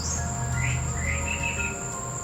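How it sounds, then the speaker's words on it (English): Birds sing outdoors on a humid day in Florida, with chirps and calls rising over a steady, high insect-like trill that runs through the whole stretch without any talk. "You hear all those birds?"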